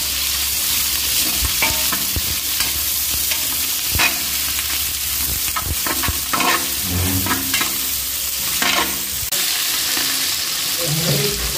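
Onion and chilli are stir-fried in a hot pan, with a continuous close sizzle and repeated scraping stirs.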